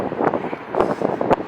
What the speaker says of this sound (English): I'm trying to block the wind with my body, because we're out in the middle of the open